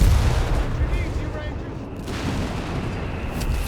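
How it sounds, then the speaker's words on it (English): Artillery fire in Company of Heroes 3, a World War strategy game: heavy booming blasts and rolling rumble layered with battlefield noise, fairly loud, under a voice. "So much artillery though."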